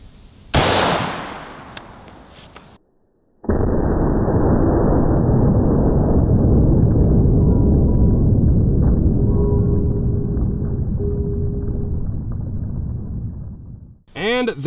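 An AR-15 rifle fires an M855 green tip round into a gel block: a sharp loud crack, a brief silence, then a long sustained roaring rumble that fades and ends in a short chirping burst.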